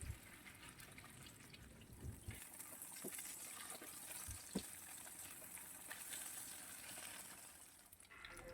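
Hotdogs fry in cooking oil in a home kitchen, giving a faint, steady sizzle and hiss with a few small pops and taps of utensils.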